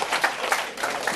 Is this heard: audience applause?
yes